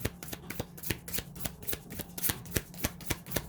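Reading cards for an astrology reading being shuffled and drawn by hand: a fairly quiet, close series of crisp riffling slaps and flicks in an uneven rhythm of roughly a dozen bursts, with no talking.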